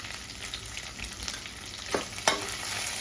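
Tondli bhat masala being sautéed in a pan with crushed thecha, hing and turmeric, a steady close sizzle broken by a couple of sharp stirring scrapes near the end, no voices.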